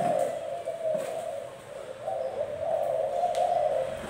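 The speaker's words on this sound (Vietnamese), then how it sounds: "Chim chơi đẹp, lớp chim dữ, gáy gù sung mãn." A Thai spotted dove coos in repeated low, rounded phrases close by, steady and fairly loud with faint background noise and no voices.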